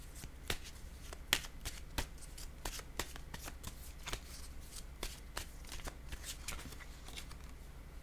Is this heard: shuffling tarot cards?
yes